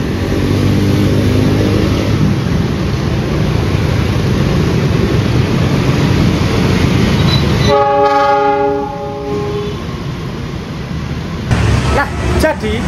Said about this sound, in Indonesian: jadi hari ini kereta api panoramik melakukan uji coba, teman-teman, dari Surabaya Gubeng ke Lamongan